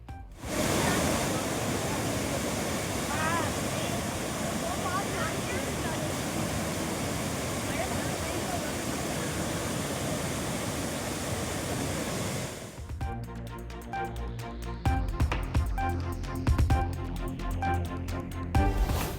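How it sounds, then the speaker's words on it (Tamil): Floodwater from heavy rain roars down the Thirparappu waterfall, a loud, steady, unbroken rush that fills the opening two-thirds, then gives way to news-bulletin music. "கனமழையால் திருப்பரப்பு அருவியில் ஆர்ப்பரித்து கொட்டும் தண்ணீர்"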